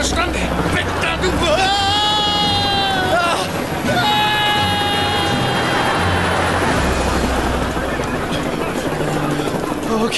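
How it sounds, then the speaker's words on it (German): A rented helicopter flying in a TV comedy scene, a loud continuous rotor and engine roar with tonal whines, while people talk over it. "Das ist der Helikopter, den Ray gemietet hat!"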